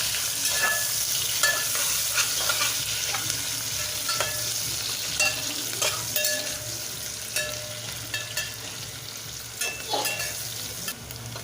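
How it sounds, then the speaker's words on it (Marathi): Chopped onion sizzles in a hot pan while a spoon scrapes and stirs it in repeated clinking strokes, a steady frying hiss underneath, close and moderately loud, with no voices. "कांदा थोडासा परतून घ्यायचा फार पण लालसर करायचा नाही"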